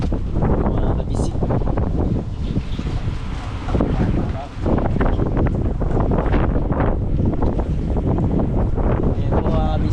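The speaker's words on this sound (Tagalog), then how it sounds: "malakas na yung hangin" Strong wind roars into the microphone aboard a boat at sea during unloading, a constant heavy buffeting rumble with surging gusts and faint voices underneath.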